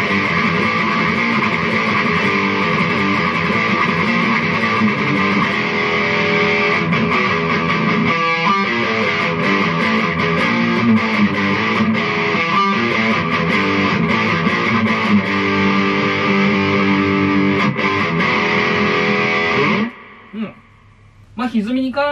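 An electric guitar plays sustained, heavily distorted chords and notes through a BOSS Dual Cube stereo mini amp with two speakers, steady and loud for about twenty seconds before cutting off into brief quiet.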